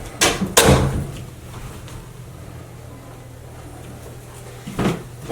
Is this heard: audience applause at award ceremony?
no